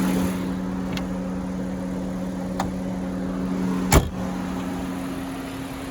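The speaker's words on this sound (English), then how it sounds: "today we have a 2021 Honda Pilot Elite. And that is running super smooth" A 2021 Honda Pilot Elite runs smoothly at idle, giving a steady, low, even engine hum throughout with one brief soft click near the end.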